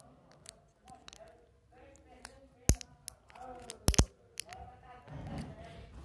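A small square homemade pop it fidget toy being squeezed, sending out scattered close clicks and a few louder snapping pops, with a voice talking softly in between.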